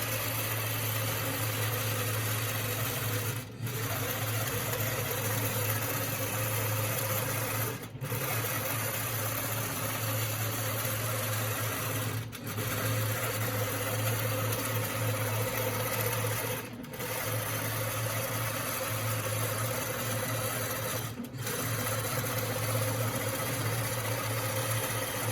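A longarm quilting machine stitches a chevron pattern in a steady, continuous mechanical hum, broken by brief pauses about every four seconds; no one talks.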